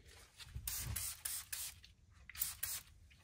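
A spray bottle spritzes while a work surface is cleaned for bag inoculation, giving several quick hissing bursts in uneven succession, close up, with light handling noise between them.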